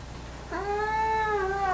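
A house cat lets out one long, drawn-out meow that rises and then slowly falls, close and clear over a quiet room.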